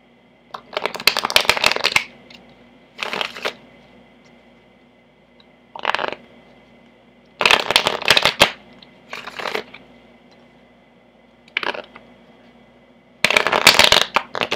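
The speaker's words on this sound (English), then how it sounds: "I will now shuffle from the Connolly Tarot deck." A Connolly Tarot card deck being shuffled in several separate bursts of riffling and flicking, each lasting about a second, with short quiet pauses between them, close and fairly loud.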